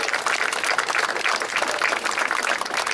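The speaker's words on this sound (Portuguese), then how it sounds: "uma salva de palmas para ele" Dense, steady applause from an audience at a paratrooper tribute ceremony in Beira Interior, many hands clapping together in a continuous, fairly loud wash with no voices over it.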